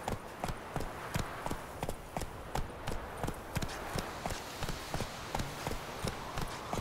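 Roach, the horse in The Witcher 3, trotting with steady, evenly spaced hoof clip-clops, moderately close, over a soft ambient bed with no talking.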